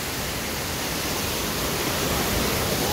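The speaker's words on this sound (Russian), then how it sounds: "Там водопад." A waterfall produces a steady, dense rushing roar that stays constant and fairly loud for the whole stretch, with no voices over it.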